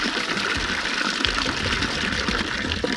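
Water gushes steadily from a push-button tap that must be held down, at a campsite in Andalusia, a continuous broadband rush that fills the clip with no talk over it.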